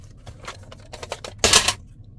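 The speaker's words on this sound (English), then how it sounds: "so I'll trim this other side here" Scissors trimming the edge of a sheet of paper for an autumn collage, a run of small crisp snips that ends in one louder, longer cut near the end, close and alone with no talk.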